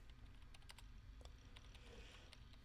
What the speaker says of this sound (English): The only sound present in the room was the distinct clacking of a keyboard